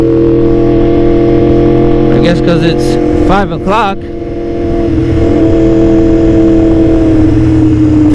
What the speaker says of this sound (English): Like traffic everywhere.